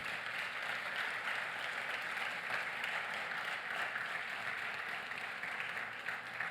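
Steady, sustained applause from a church congregation, a dense even patter of many hands clapping continuously, moderately distant and without voices on top.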